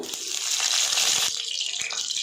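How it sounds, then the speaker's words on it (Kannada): Mustard seeds and curry leaves sizzle in a generous pour of hot oil in a pan, making a steady, bright, close hiss that crackles lightly and runs without a break. "ಈಗ ಸಾಸಿವೆ ಹಾಕ್ತಾಯಿದ್ದೀನಿ ಕರಿಬೇವು"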